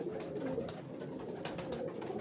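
Prince, or Shahzada, breed pigeons coo in a thick, continuous chorus, close and steady, with no voices over the birds.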